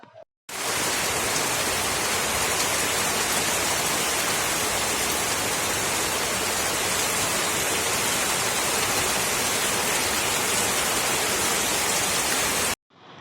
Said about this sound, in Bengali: কি মানে আওয়াজ হচ্ছে বৃষ্টির মানে যে শিলা বৃষ্টি হচ্ছে এরম আওয়াজ হচ্ছে